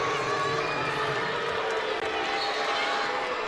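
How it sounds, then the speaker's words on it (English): Basketball crowd noise at a state championship game between Tulsa Memorial and Del City, a dense, loud roar filling the arena after an offensive foul call, with booing blended into the steady din. "Charger fans are booing"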